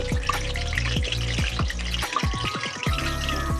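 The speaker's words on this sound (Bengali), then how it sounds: "তেলটা ভালো মতো গরম হয়ে গেলে দিয়ে দেবো বড় বড় করে কাটা আলুগুলোকে একটু ভেজে নেব" Large chunks of cut potato fry in half a cup of hot white oil in a wok, giving a steady sizzle with dripping, bubbling pops over soft background music.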